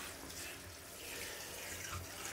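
Tap water runs in a steady rush as an Oase BioMaster pond pump pre-filter is rinsed under it, continuous and close with no talking.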